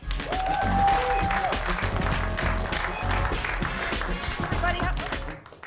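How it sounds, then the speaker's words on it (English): A comedy club audience applauds a comedian taking the stage, a sustained round of clapping under a low hum and background voices, fading out at the end. "Ladies and gentlemen, big round of applause for Trish Cook."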